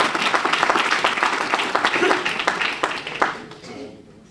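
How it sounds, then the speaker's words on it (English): An audience claps at a 2013 early learning academy graduation ceremony, a steady round of applause that thins and fades out toward the end. "A round of applause for Earl"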